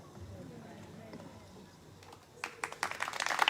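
A church audience at a Catholic teaching session begins clapping near the end, scattered claps building quickly into applause after a stretch of quiet speech.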